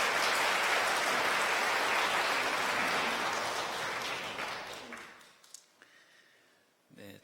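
A church congregation at a Sunday service claps in welcome, a steady, fairly distant wash of applause that fades out toward the end, leaving a few scattered sounds.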